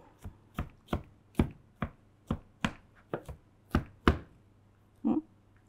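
A knife chops vegetables on a cutting board for stuffed zucchini, about ten crisp, close knocks in an uneven rhythm, each clearly separated, with no talking.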